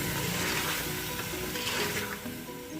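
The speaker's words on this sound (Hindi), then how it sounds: "इसको भी गोश्त के साथ इस तरह भून लेंगे।" Potatoes fry together with mutton for aloo gosht, giving a dense, continuous close sizzle with faint stirring, steady and loud throughout with no talk.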